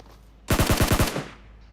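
Shotgun fire in the mobile game PUBG Mobile, a rapid burst of about six loud, close blasts in quick succession lasting under a second, then a short fading tail with no talk.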